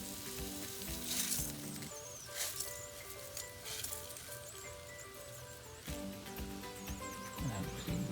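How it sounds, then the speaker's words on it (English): Chicken and ambemohar rice sautéing in a pressure cooker, a steady sizzle with scraping stir strokes and occasional clinks, running continuously throughout with no one talking. "then just stir fry it like this and let it saute"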